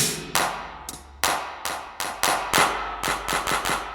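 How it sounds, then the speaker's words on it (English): Roland TR-909 drum machine hits in a GarageBand afrobeat pattern fire off in a quick syncopated run, punchy and bright, with sharp clap-like attacks and no talking. "and that sound is Roland TR909"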